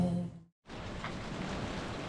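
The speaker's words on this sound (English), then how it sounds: "And it's raining today, which I love the rain." Steady rain falls on a stormy California coastal morning, a dense even hiss that starts after a brief silence and continues unbroken and fairly loud to the end.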